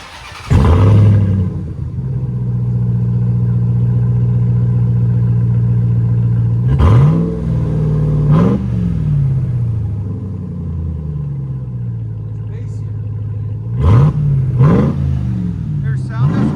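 RAM TRX pickup with a Flowmaster Outlaw exhaust, part number 15430S, starting with a loud bark and settling into a deep idle rumble, then sharp throttle blips that surge and fall back, close and loud.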